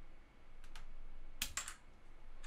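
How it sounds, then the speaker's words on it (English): Several crisp keystrokes on a Modecom Volcano RGB Lanparty keyboard with clicky Outemu Blue switches, a few scattered clicks and then a quick burst of two or three close-up presses over quiet background hiss. "Probably the next thing you want to hear is the switches. So this keyboard comes with quite popular switches"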